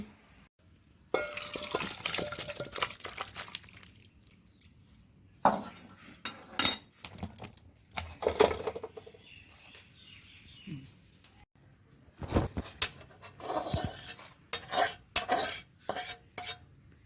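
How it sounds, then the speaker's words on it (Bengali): Jackfruit curry sautéed in a pan with ground spice paste, heard as intermittent scraping and clinking of a spoon against the pan, with scattered stirring bursts, faint background birdsong and quieter gaps between strokes. "আর এঁচোড়টা এদিকে কষিয়ে নিলাম"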